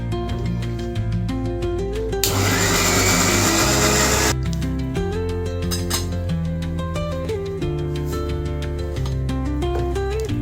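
A blender purees cooled tomatoes in a brief, loud whirring burst of about two seconds, set against continuous background music.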